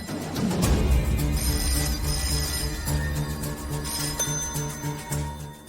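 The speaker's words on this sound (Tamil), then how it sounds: "என்ன போன் அடிச்சுக்கிட்டே இருக்கு, யாரும் எடுக்க மாட்டேங்கிறாங்க" A landline telephone rings repeatedly in a home, loud and near, its bright electronic trill repeating steadily over a low musical bed with no one speaking.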